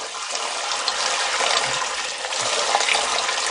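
Cold tap water running over hot peeled tomatoes during home canning: a continuous, loud splashing gush of water that holds steady throughout with no talking.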